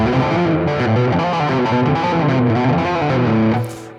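Electric guitar played legato through a compressor set to a very low attack time, producing a sustained, evenly squashed run of notes with a smooth, distorted tone that holds steady before fading out at the end.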